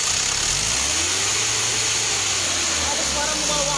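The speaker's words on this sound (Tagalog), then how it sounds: "tinan niyo po yung tunog ng makina niyo" Car engine after an Aero Metal Guard oil treatment, running close by with a low steady idle hum that dips and swells slightly under heavy background hiss, no talk over it.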